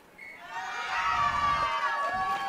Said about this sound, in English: You're going to hear the crowd yell when this goes.